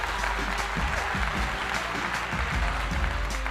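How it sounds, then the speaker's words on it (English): Studio audience applause on a live talk show, a steady clapping wash with a low hum underneath and faint voices mixed in. "Round of applause."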